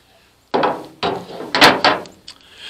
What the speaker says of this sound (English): this is a Harbor Freight steel handle lopper